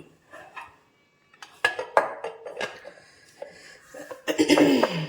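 A metal lid clatters onto a cooking pot amid scattered kitchen clinks of dishes and utensils, with a louder final clang near the end and occasional brief voice sounds.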